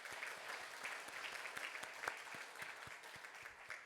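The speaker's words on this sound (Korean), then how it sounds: "다 함께 박수 한번 하나님께 올려드리도록 하겠습니다." Steady applause from a church congregation during a Korean worship service, many hands clapping at once in a dense, even patter throughout.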